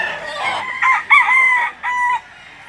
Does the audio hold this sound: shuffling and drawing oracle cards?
no